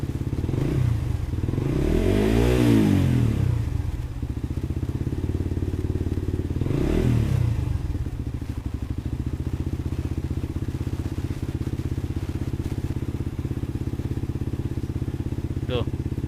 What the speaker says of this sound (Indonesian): Jadi untuk buka tutup gas pun dia enak, nggak berbet. Jadi mesinnya itu nggak kayak mau mati.